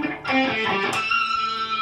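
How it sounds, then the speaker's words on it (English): A guitar pinch harmonic rings out after a picked note, a bright squealing overtone jumping high above the string's pitch and sustaining briefly, played alone with no talking. "That was a pitch harmonic."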